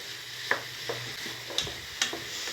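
Cut carrots and other vegetables sauté in a pan, a soft steady sizzle broken by a few spoon scrapes and taps while being stirred, close and moderate in volume.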